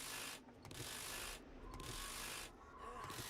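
Wrenching a looted object in the survival game 7 Days to Die: repeated rasping, ratcheting metal scrapes in three bursts separated by short pauses, loud and close with no talk.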